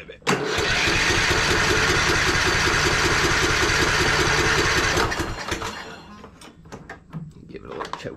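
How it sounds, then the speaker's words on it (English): A Troy-Bilt Bronco tractor engine running on old gas roars loud and steady with a rapid chugging rhythm, then cuts out abruptly, leaving scattered knocks and clatter. "as soon as I crank this thing up, we'll go ahead and pull it outside and see how it runs"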